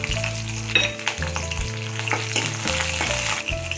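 Oil sizzles loudly in a pan as a dal tempering with garlic, green chilies and dried red chilies fries, with bursts of crackling and stirring scrapes, close up and with no talking.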